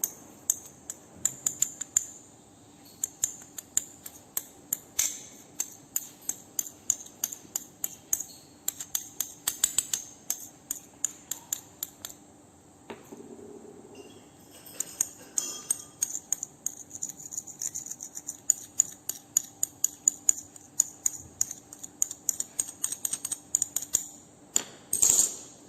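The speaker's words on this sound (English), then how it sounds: "2 gram of urea is mixed thoroughly in a pestle and mortar" Phthalic anhydride and urea ground together in a mortar with a pestle, making a steady run of sharp, clinking scrapes and taps that repeat in quick rhythm, close and fairly faint.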